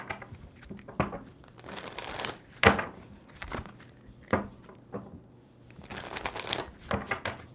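A deck of tarot cards is shuffled by hand in a series of quick riffles and slides. Crisp bursts come in uneven rhythm, with short pauses between them.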